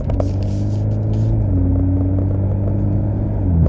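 A BMW 330e, a rear-wheel-drive car with stage 1 tuning, drives through a roundabout at modest RPM, its engine giving a steady low rumble heard from inside the cabin throughout.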